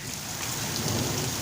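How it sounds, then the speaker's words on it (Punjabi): Sudden heavy rain falling after a long dry spell, a dense steady hiss of drops pouring onto surfaces nearby, loud and continuous with no voices. "ਕਾਫੀ ਅਰਸੇ ਬਾਅਦ ਬਾਰਿਸ਼ ਆਣ ਰਹੀ ਹੈ।"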